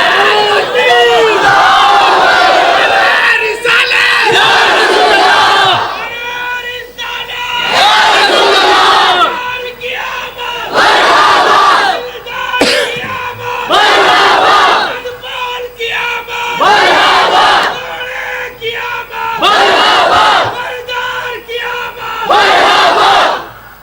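Large crowd at a Jashn-e-Milad-un-Nabi religious gathering chanting slogans in loud call-and-response bursts, about eight surging waves separated by short pauses.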